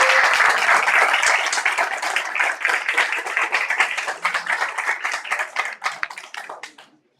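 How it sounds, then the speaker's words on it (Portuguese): An audience applauds, loud and dense at first, then thins into scattered, distinct hand claps that die away toward the end. "Palmas para o seu Luiz."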